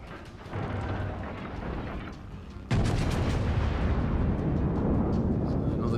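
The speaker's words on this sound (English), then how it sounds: "So another shot on the Nagato." Battleship main-gun fire in World of Warships sounds as a deep, sustained booming roar over a rumbling battle background. A heavier blast hits partway through and holds loud.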